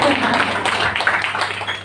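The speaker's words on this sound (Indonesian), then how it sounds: "Tepuk tangan dulu." Audience applause at a Laskar Merah Putih regional gathering in Banten: a short burst of dense clapping from a crowd, mixed with indistinct voices.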